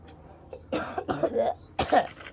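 A storyteller's voice imitates Thomas the Tank Engine coughing, giving several rough, close bursts of coughing and throat-clearing over a faint hum.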